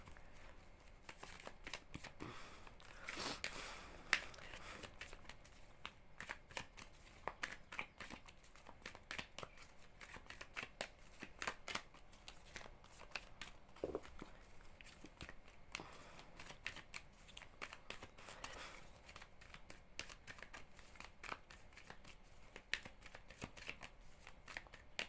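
Oracle cards are shuffled continuously for about twenty-five seconds, giving a soft, rapid riffling and flicking texture with occasional louder slaps, close and fairly quiet, with no speech.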